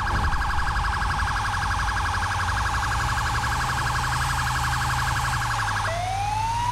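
A fire truck siren in GTA V wails loud and steady with a fast warbling cycle, then drops into a falling tone near the end over a low engine rumble.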